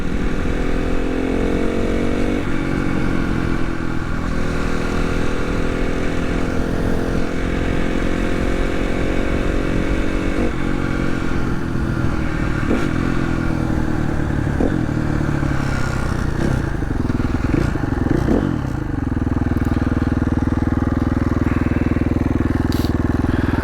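A 2016 KTM 450 XCF dirt bike held in top gear, its engine droning loud and steady at high revs with slight pitch shifts and some clatter, close and continuous.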